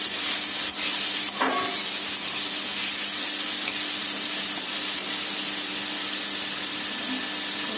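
Carrots and capsicum frying in a pan, giving a loud, dense, continuous sizzle with a few faint clinks of stirring near the start, close up and with no voices.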